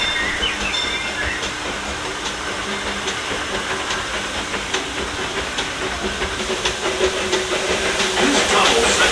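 Big Thunder Mountain mining train ride at Disneyland, a continuous loud rumble of rolling rail cars with hissing and clattering track noise, faint crowd voices mixed in throughout.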